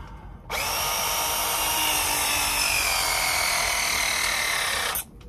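Battery-powered press tool crimping a half-inch slip fitting on a domestic water line, a loud steady whirring motor drone running continuously for about four and a half seconds, then cutting off abruptly.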